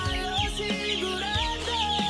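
Five-week-old chicks clucking close by in a backyard, a steady run of short chirpy clucks and trills overlapping one another with no pauses.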